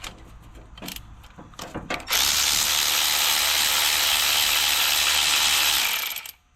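A ratchet wrench loosens bolts on a car during a big turbo install. A few sharp clicks come first, then a loud, continuous fast ratcheting whir up close that lasts several seconds before stopping.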